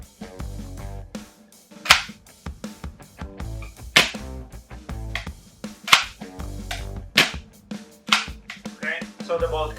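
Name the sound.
VFC SCAR-H airsoft rifle with HPA conversion kit firing shots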